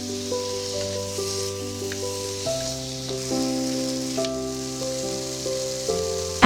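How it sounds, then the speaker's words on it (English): Chopped green onion and tomatoes fry over medium-low heat in a pan, giving a steady, soft sizzle that runs through the whole stretch beneath continuous tonal background music. "Use medium-low heat to fry the tomatoes until soft."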